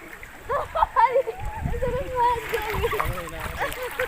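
Water splashing as people bathe in a cold outdoor swimming pool, with uneven sloshes and splatters close by, mixed with lively talk and voices throughout.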